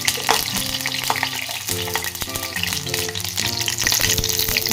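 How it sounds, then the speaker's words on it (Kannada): Garlic frying in hot coconut oil, a steady crackling sizzle with stirring throughout, loud and close with tonal kitchen hum underneath and no talking. "ಎಣ್ಣೆ ಬೆಚ್ಚ ಉಳಿಸಿದ ಕಡೆ ಒಂತೆ ಬೆಳ್ಳುಳ್ಳಿ ಕುದಿದು ಆ ಎಣ್ಣೆಗೆ ಪಾಡೋದು"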